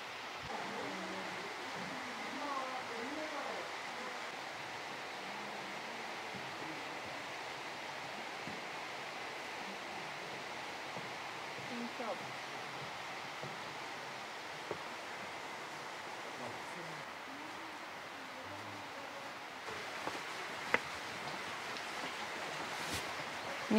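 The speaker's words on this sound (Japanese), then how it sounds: "みすずの滝だ。" Misuzu Falls, a waterfall in Gunma, Japan, gives a steady, even rushing roar of falling water heard from a moderate distance, continuous and unbroken, with no voices over it.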